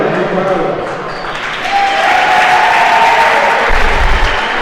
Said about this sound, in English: There's a really big crowd here today.